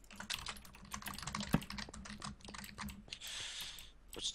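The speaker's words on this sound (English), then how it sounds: "Why is Justin typing?" Rapid computer keyboard typing comes through a voice chat during a Minecraft team game, a dense run of light clicks and clacks with brief pauses and one louder key hit, no talking.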